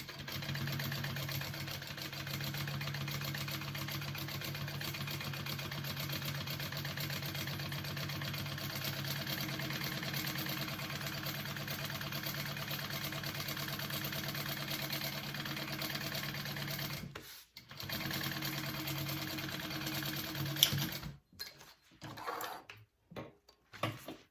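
A sewing machine runs in a long, steady hum while basting a slip pocket onto a shoulder bag, stopping briefly near the end before a few short, uneven bursts and pauses.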